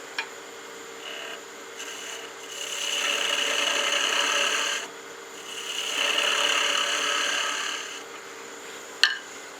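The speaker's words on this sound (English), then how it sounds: "I'm just going to give myself a small V groove here." A wood lathe spins steadily while a tool cuts a small V groove into a turned wooden gnome Christmas ornament, two sustained scraping cuts rising over the motor's hum, with a sharp click near the end.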